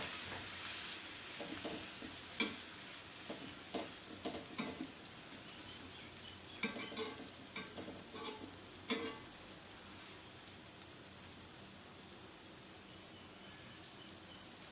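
Pooda, a sweet pancake, frying in a pan as it is flipped, a faint continuous sizzle with light tapping and scraping bursts early on, alone and without talk.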